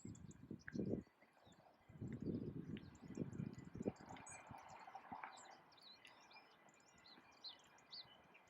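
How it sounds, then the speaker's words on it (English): Birdsong chirps and trills on a morning walk near a large container port in Felixstowe, faint and scattered across the clip over low rumbling background noise and occasional rustling. "Two sounds this morning: birds"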